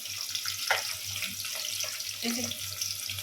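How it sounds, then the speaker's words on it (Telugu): Tap water runs steadily into a kitchen sink as raw mutton is washed, a close, continuous splashing gush with faint background voices. "ఈ మటన్ అయితే శుభ్రంగా ఒక నాలుగైదు సార్లు అయితే శుభ్రంగా కడగాలి"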